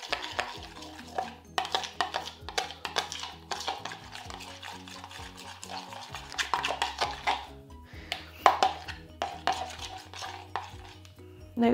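A pan of prawn cocktail being stirred by hand: steady clinks and scrapes of a utensil against the pan, close and continuous over a low background hum, with no talking.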